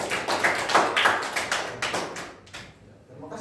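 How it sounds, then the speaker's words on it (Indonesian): Classroom applause from students at an elementary civics teaching-practice session, a dense run of overlapping claps filling the room before tapering off toward the end. "Tepuk tangan untuk kelompok tiga."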